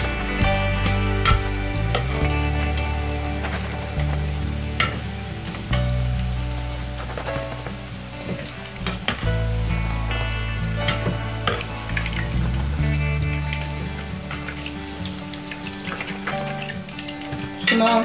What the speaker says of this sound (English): cheese donut is almost finished frying.